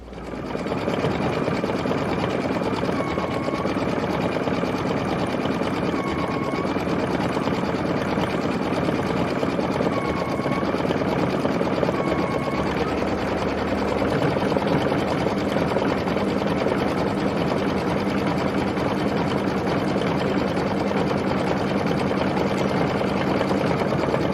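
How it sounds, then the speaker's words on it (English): An embroidery sewing machine stitches decorative edge stitches on a quilted star project, running as a loud, continuous rapid hum and whir for the whole stretch with small shifts in pitch and no talking. "I'm going to go back and stitch the final stitching, which is the decorative stitches that go around the edges"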